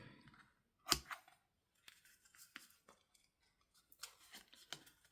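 Paper card cut with scissors in a few quick snips, close and fairly quiet, with a sharper crunch near the start and light rustling handling between cuts.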